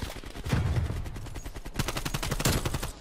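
Rapid bursts of automatic gunfire crackle in Call of Duty Cold War on the Nuketown 84 map, several volleys of sharp shots over about three seconds, fairly quiet in the mix.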